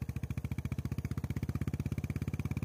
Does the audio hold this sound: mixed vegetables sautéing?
no